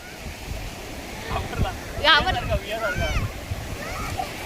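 Sea waves wash in at Devka beach in Daman, a broad wind-blown surf roar behind excited voices of people at the water's edge, the wash swelling briefly midway.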